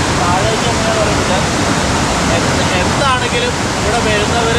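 Paathanpara waterfall, a hidden waterfall in Kerala, roars loudly and close by as a dense, unbroken rush of falling water, with a few thin chirping tones rising briefly above it.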